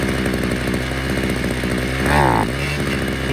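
A Ryobi CS26 gas string trimmer with a stalling fault drones at a high, buzzy rev, then briefly surges louder and bogs down with a dipping, sputtering pitch before settling back, close and continuous.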